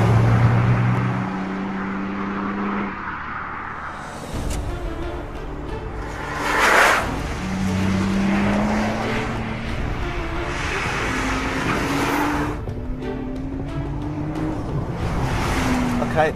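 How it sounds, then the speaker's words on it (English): A Nissan GT-R Nismo drives on the Cadwell Park track, its engine note climbing through gears in repeated rising sweeps with brief breaks between shifts, loud and near, with wind rush and someone talking over it. "Okay, the Nismo GTR on Cadwell Park."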